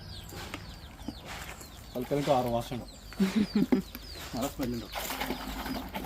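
Chickens cluck and squawk near their cage in a series of short, close calls, mixed with a person talking and handling sounds around the coop.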